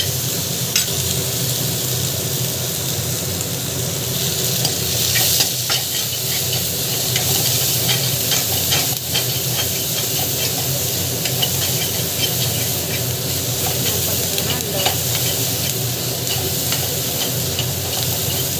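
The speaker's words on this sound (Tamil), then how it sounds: "பார்த்திங்கன்னா காரப்பருப்பு நல்லா வதக்கணும்" Lentils frying in a pan for a greens chutney, a loud unbroken sizzle and hiss with occasional scraping and clicking from stirring, no talk.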